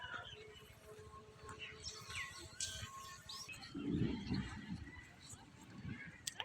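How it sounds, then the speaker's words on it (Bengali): Several birds of various species chirp and tweet in scattered bursts at a bird sanctuary, close and fairly clear, while low murmuring and rustling noise runs beneath. "বিভিন্ন প্রজাতির পাখি আছে"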